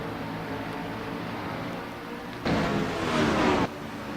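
Pro Cup race cars at Richmond, with one engine roaring past loudly for about a second over a steady background rumble of the race.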